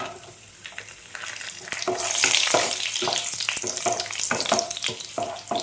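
Raisins sizzle and crackle in a hot pan while being stirred for coconut rice, a close, steady frying hiss that swells briefly and carries on with scraping stir strokes.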